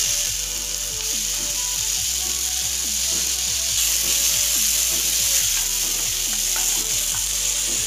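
Finely chopped onion sizzles and fries in a small amount of hot oil in a pan, a steady dense crackle throughout with occasional stirring scrapes, close and fairly loud with no talking.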